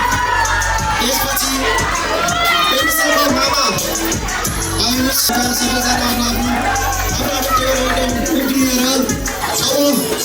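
Loud crowd at a sixteenth birthday celebration cheers and shouts continuously as guests are welcomed, with children's voices and babble mixed into a dense, sustained roar.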